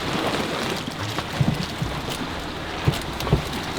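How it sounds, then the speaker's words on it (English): Steady rain hisses down on a tiny speedboat traveling the coast toward Cromarty, with wind buffeting the microphone and a few soft thuds of drops or hull knocks scattered through the continuous wash. "look at the rain now"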